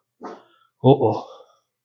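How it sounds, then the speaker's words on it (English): A dog outdoors in a blizzard gives two short, sharp barks about half a second apart, loud and close, with the second bark longer and more drawn out. "You see the dog?"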